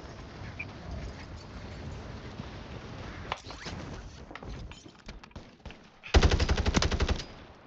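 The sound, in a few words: gunfire in Warzone 3 video game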